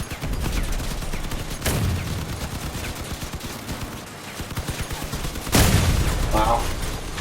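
Rapid vehicle-mounted gunfire from the combat game Crossout, dense automatic bursts running throughout with two sharper, louder blasts standing out, mixed with engine noise.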